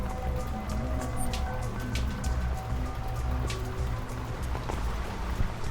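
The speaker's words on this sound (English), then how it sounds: "Yeah, looks like it'll rain forever." Video game rain in Elea patters steadily across surfaces with a constant wash of drops and scattered louder splashes, no voices.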